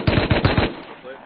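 Rapid gunfire from a shooter video game, a quick burst of four or five loud shots over roughly half a second before fading out.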